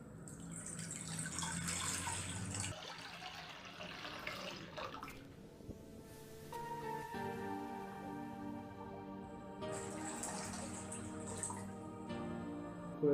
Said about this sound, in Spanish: Añadiremos agua a cada uno de los dos recipientes.